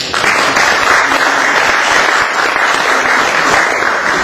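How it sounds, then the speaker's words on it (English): Applause from the audience at an Iftar dinner in Waltham Forest Town Hall, London, during Ramadan: sustained, dense clapping from a large indoor crowd, close and loud, lasting several seconds. "A big round of applause for Dr. Mr. Mayor, Mr. Deputy Mayor"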